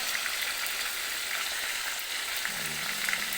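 Fish frying in hot oil in a Thai home kitchen gives a steady, dense sizzle that carries on loud and close throughout, with no talk.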